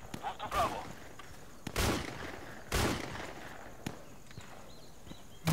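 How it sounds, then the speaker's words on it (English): Shotgun blasts in the Insurgency video game: three sharp, booming shots spaced about a second apart, moderately loud over faint background game ambience, with a few softer clicks between them. "Who's firing that shotgun?"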